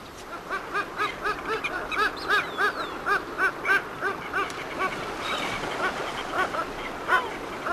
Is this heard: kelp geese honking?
yes